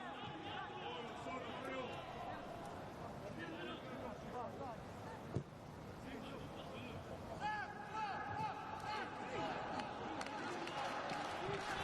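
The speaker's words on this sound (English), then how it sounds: "First little encouragements there from the crowd, who are just behind the camera" Spectators just behind the camera at an under-19 football final between Sassuolo and Fiorentina, a steady crowd murmur with scattered calls and shouts of encouragement, one sharp thump midway.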